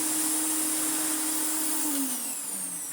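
An Electrolux Dolphin Z2220 cylinder vacuum cleaner runs with a steady, whining motor hum close by, its pitch dipping and shifting near the end as suction changes.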